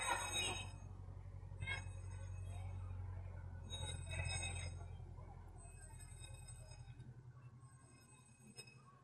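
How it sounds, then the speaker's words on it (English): An amusement park train in a holiday village rumbles past outdoors behind the listener, with a steady low rolling drone, a few metallic clinks and squeals, fading toward the end. "Here comes the train behind me."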